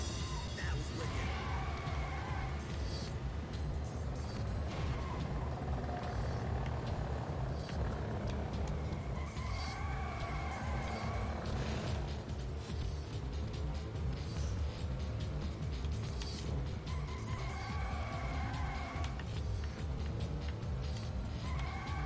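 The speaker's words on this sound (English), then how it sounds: "You can really hear the exhaust note of the car screaming through the night air." Engine and exhaust note of a racing car in the video game Ridge Racer V, a continuous revving drone with rising and falling pitch sweeps as gears change, steady and moderately loud over a constant background.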